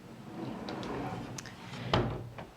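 A dresser drawer in a nursery slides open with a muffled wooden scrape and a soft thump near the end, close by, under a quiet room tone.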